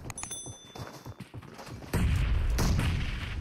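Grenade explosions in a team shooter match, heavy booming blasts landing upstairs amid gunfire, with scattered thuds first, then a loud sustained rumble, with no voices.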